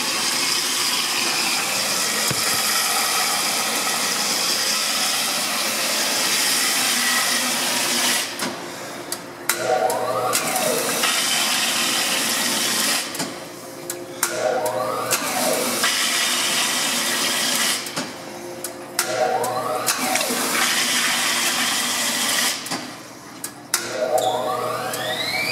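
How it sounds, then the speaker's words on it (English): A 20-year-old Speed Queen washer advances to its spin cycle with steady water rushing and churning, broken by repeated short mechanical clunks and rising whirs of the drum speeding up. The sound is continuous, loud and close. "Now I've advanced it all the way to the spin cycle."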